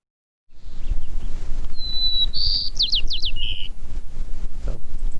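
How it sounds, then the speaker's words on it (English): A white-crowned sparrow sings a short series of bright, rising whistled notes and trills, fairly close, over steady outdoor background noise and light wind on a coastal trail. "So there were white-crowned sparrows singing"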